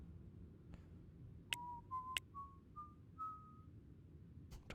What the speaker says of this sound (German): Da pfeift einer, cool.